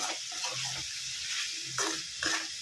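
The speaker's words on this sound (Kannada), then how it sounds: "ಈಗ ಇದನ್ನು ಮತ್ತೆ ಹೈ ಫ್ಲೇಮಲ್ಲಿ ಇಟ್ಕೊಂಡು ಚೆನ್ನಾಗಿ ಇದನ್ನು ನಾವು ಒಂದು ಮೂರು ಸೆಕೆಂಡ್ ಫ್ರೈ ಮಾಡಿಕೊಂಡ್ರೆ ಸಾಕಾಗುತ್ತೆ" Cabbage rice frying on a high flame, a loud continuous sizzle close by, broken by a few stirring scrapes toward the end.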